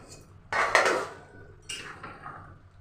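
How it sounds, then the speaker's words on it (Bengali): A spoon scrapes and clanks as masala is stirred in a metal cooking pot, two bursts of clattering metal, close and fairly loud, with a quiet pause between. "এবার মশলাটাকে আমি নেড়ে নিয়ে গ্যাসটা অফ করে দেব।"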